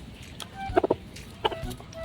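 Chickens clucking close by in a farmyard, a few short bursts of clucks spread over two seconds with quiet gaps between them.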